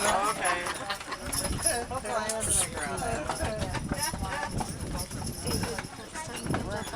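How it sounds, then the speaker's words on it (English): Hooves of horses wearing regular horseshoes with Drill Tech welded on the bottom clip-clop steadily on blacktop, rhythmic and moderately close, under constant chatter from nearby people. "They're just wearing a regular horseshoe, but they have what they call Orion or Drill Tech welded on the bottom"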